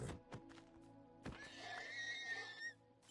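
A horse in a crafting video game gives a clear, rising and falling neigh after a few soft hoof clops, close and fairly quiet, with no talking over it.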